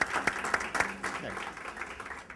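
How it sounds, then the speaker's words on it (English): Audience applause for NYU and Polytech at the opening of a Brooklyn business summit, a brief burst of clapping blended with speech-like voices over a short stretch. "If I can have a round of applause for NYU and Polytech."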